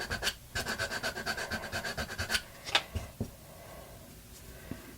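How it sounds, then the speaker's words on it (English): A sanding block or sandpaper works over a wooden character block, giving a run of quick rhythmic rasping strokes for about two seconds, then a few isolated scrapes and quieter handling, close and fairly soft. "And I'm sanding up into that image"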